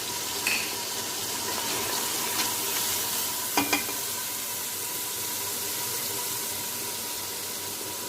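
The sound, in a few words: green chilies and ginger added to frying pan, stirring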